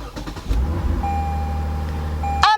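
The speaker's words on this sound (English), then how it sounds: "Now start the vehicle with the good battery." A car cranks with a few rapid starter turns and catches, then settles into a steady close idle, powered by the good battery during a jump start.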